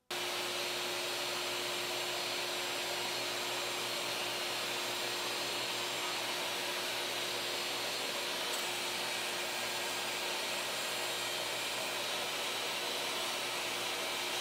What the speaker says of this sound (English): I rip down all the various dimensions I need on a table saw